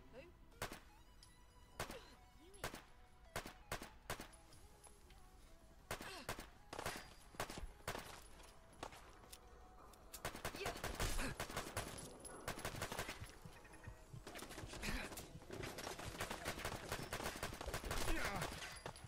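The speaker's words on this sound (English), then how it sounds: "Turret's gonna light me up as soon as it sees me." A turret opens fire in Fallout London: scattered single shots at first, then sustained rapid bursts that grow denser and louder, with a voice talking now and then between them.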